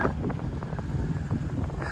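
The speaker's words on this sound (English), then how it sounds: "It's very windy." Wind buffets the microphone in a constant low rumble outdoors in Marianna, Florida, with gusty swells and muffled thumps throughout and no voices.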